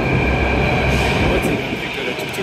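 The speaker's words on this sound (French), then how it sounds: "enfin on va prendre le métro" A Delhi metro train pulls into a station, a loud rumbling roll of wheels with a steady high whine and squeal that eases slightly toward the end, heard up close.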